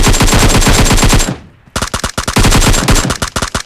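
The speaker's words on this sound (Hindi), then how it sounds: "पीछे से एक 4 फायरिंग की आवाज़ आती है" Rapid bursts of automatic gunfire in a video game, loud and close, broken by a brief pause before the firing resumes in quick repeated shots.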